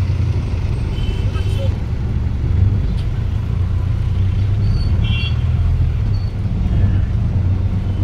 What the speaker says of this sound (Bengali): ফুল জ্যাম দেখো।